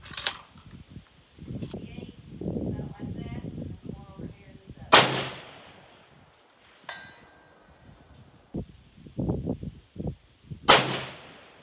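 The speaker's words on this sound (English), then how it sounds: "We're just going to go straight out to 500 yards and shoot some steel." Several loud, sharp .30-06 rifle shots fired at steel targets 500 yards away, each a sudden crack with a brief decay, spaced a few seconds apart, with quieter handling noises and low talk between them.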